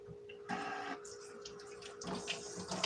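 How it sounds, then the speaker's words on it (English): Tap water runs from a kitchen faucet over raw shrimp in the sink, a steady splashing hiss that shifts as the stream hits the shrimp, with a constant faint hum underneath and no talking. "I like to stick it under the faucet and clean it out."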